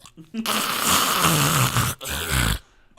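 A man imitates loud snoring with his voice, two long rasping, snorting breaths separated by a short pause, close and forceful.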